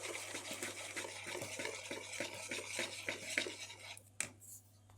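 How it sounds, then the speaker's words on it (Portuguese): A spoon stirs cornstarch into egg yolk for a syrup, scraping a pan in a steady, even rhythm of soft clinks that stops near the end, followed by one sharp knock. "E agora é só mexer até dissolvermos todo o nosso amido de milho"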